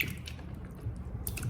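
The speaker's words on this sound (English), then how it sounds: "change the water and rinse the potatoes again" Potatoes are rinsed in a basin of water, giving soft sloshing, dripping and squishing sounds that stay faint and continuous with no voices.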